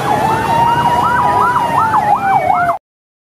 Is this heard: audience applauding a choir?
no